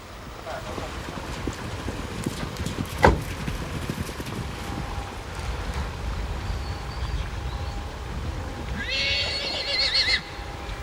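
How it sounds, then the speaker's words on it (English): A Przewalski's horse whinnies briefly near the end, over steady wind and outdoor rumble, with a sharp knock partway through. "Gradually, the Przewalski horse slows down."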